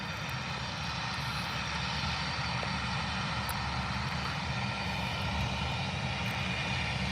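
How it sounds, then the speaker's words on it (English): A Turkish Airlines Airbus A321 at Birmingham Airport gives off a steady, distant engine roar that holds evenly throughout with no talk over it. "Oh, Turkish Airlines A321."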